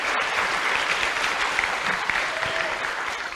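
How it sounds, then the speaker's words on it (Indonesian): An audience applauds Mahfud MD at a university talk, a steady, even wash of many hands clapping throughout, fairly close and without speech over it. "Tepuk tangan Pak Mahfud"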